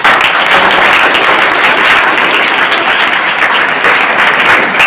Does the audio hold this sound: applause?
yes